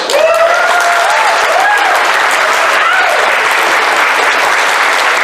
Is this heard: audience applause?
yes